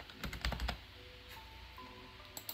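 Quick bursts of keystrokes on a computer keyboard, a rapid cluster of clicks followed by a pause and a couple of later taps, close and fairly quiet.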